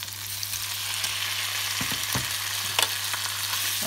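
Prawns frying in butter in a hot pan, a steady close sizzle with a few sharp clatters of stirring and no talking.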